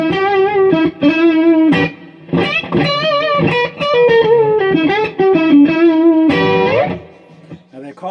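Fender American Elite Stratocaster electric guitar on its middle pickup position, played through an amp with effects. Loud, close single notes and chords ring out in quick phrases, then sustain and fade near the end.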